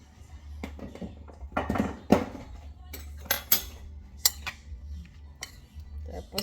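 Kitchen utensils stir and toss a bitter gourd salad dressed with apple cider vinegar, giving close scraping and clinking with irregular knocks against the bowl over a steady low hum.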